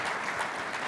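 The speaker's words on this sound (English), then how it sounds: "maybe we could just give a round of applause to all the business associates that are here" An audience claps at a mayors conference plenary session, a brief steady patter of applause at moderate distance.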